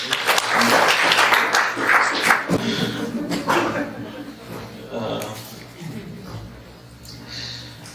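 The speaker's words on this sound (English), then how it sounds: "A round of applause." Applause from a forum audience starts strong and thins out over several seconds, with scattered chuckles and voices mixed in as it fades.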